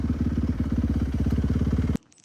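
An 85cc motorcycle engine runs loud and close with a steady, rapid pulsing beat for about two seconds, then cuts off abruptly, leaving faint background.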